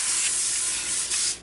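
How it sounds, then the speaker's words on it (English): A steady, close hiss of an aerosol cooking spray, held for over a second with a brief dip before it cuts off. "Got some cooking spray, we're gonna spray both pans."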